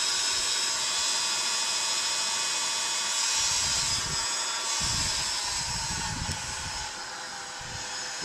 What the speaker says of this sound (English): I'm just going to give it a bit of a rev with a hot air gun on the very low setting